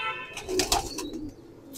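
Soft, murmuring coos from pigeons kept on a rooftop, low and close, with a few brief chirpy notes over a quiet outdoor background.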